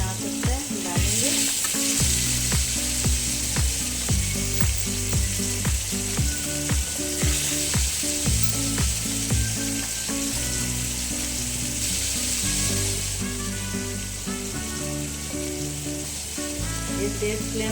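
Chicken pieces fry on a hot tawa over a high flame, giving a loud, steady hiss and crackle that continues throughout, with music playing underneath.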